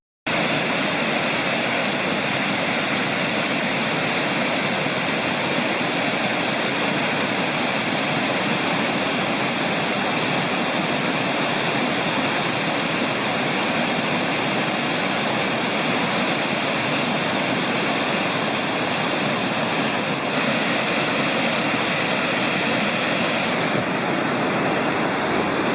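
Waterfall in the Lost Cove Wilderness above Greg Plonk Falls, a loud, steady roar of rushing water close by that stays unbroken and even throughout.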